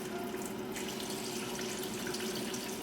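Slightly warm water poured from a cup into creamy Caesar salad dressing, a steady close trickle that runs evenly throughout without talk.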